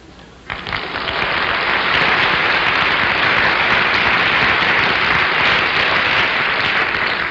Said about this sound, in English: Like the way the people applauded?